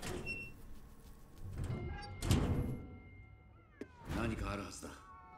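Cats meowing in the video game Ghostwire: Tokyo, several drawn-out meows at moderate loudness mixed with game thumps and ambience, with a voice speaking in places.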